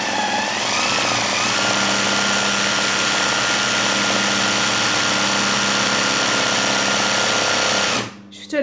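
An electric sewing machine motor runs fast and continuously at high volume with a dense steady whir, then stops abruptly near the end.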